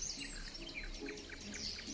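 Small birds chirp and tweet in a scattered, overlapping chorus of short high calls, moderately close, with no talking.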